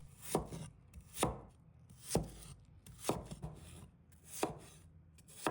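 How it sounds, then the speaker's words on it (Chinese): A knife cuts peeled Chinese yam into diamond-shaped pieces on a board, six sharp, evenly spaced chops ringing out close and clear with no talking. "用斜刀把它切成小段， 然后切成菱形块"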